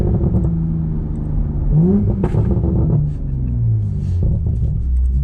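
A car engine rumbles and revs loudly from inside the cabin of a Toyota Chaser after an engine swap, with sharp crackling pops from the exhaust during the downshift.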